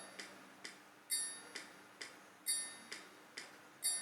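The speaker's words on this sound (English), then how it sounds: "if you take this song and you go with a click track" Click-track metronome ticking a steady waltz pulse, with a brighter, sharper accented click on each first beat of three; clean and close, no voices.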